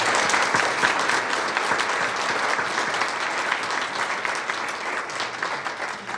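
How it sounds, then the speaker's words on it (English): A community forum audience applauds local police officers, a dense, steady wash of clapping that carries on strongly for several seconds. "let's give our law enforcement a round of applause"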